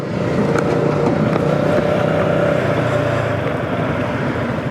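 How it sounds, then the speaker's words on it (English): A Zontes G125 motorcycle engine running steadily to warm up, a close, loud, even drone with a faint whine holding throughout and no talk. "First of all, we need to get the engine nice and warm."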